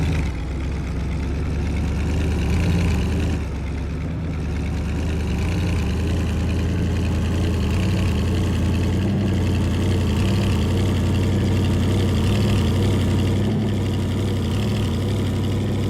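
Farming Simulator 22 vehicle engine running loud and steady with a low, droning rumble, the tone shifting slightly as it changes gears, continuous throughout without talk.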